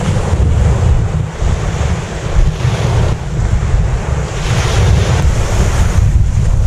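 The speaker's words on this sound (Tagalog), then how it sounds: "Maalon ngayon, kaya lang hindi siya ganong kataas." Ocean surf rolls and washes continuously onto a red-sand beach in Bicol, Philippines, with fairly low waves, mixed with heavy wind rumbling across the microphone; no one speaks.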